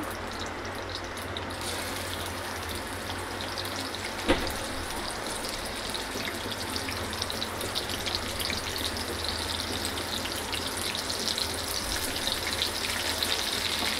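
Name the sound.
tempering frying in hot oil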